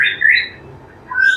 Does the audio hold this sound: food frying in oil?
no